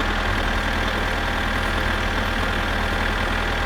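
Truck engine in My Summer Car pulling away in first gear, a steady, loud low-pitched diesel drone with a knocking rumble that holds even throughout, no voices over it.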